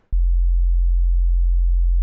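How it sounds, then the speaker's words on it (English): A pure low sine wave tone from the Operator synthesizer, a single steady hum starting with a click and holding at constant loudness, alone. "If I just play a sine wave with operator,"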